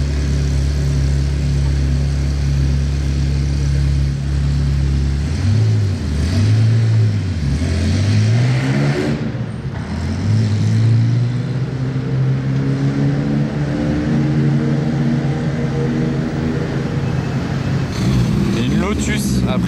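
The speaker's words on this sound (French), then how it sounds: "355 Challenge. Elle fait un bruit là au ralenti." A Ferrari 355 Challenge road-homologated race car idles loud and close, its deep steady drone dipping and rising through several blips of the throttle before settling back to a rough idle.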